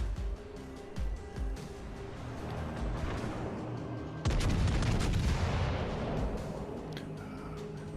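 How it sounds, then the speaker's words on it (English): Heavy naval gunfire from a battleship in the naval combat game World of Warships Legends, a continuous roar of booming salvos and rumbling that swells into a louder, denser blast midway through, with no talking. "Firing blind at the Atlantico."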